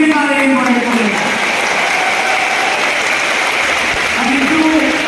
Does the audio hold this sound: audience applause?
yes